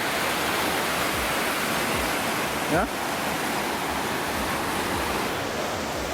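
River rapids on the bumpy Bad Kreuznach slalom course give a constant, broad rushing roar close by, and a voice speaks briefly partway through.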